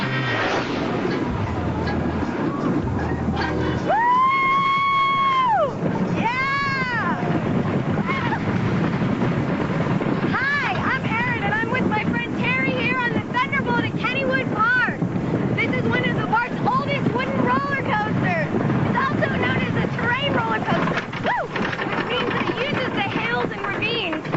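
Riding Kennywood's Thunderbolt roller coaster, with steady rushing wind buffeting the microphone throughout while riders' voices rise and shout over the roar.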